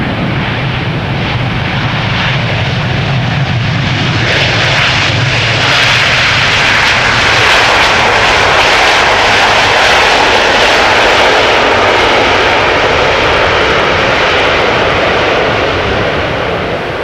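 A brand-new Delta airliner arrives at Amsterdam Schiphol from Atlanta, its jet engines roaring loudly and continuously, rising and broadening as it passes close by.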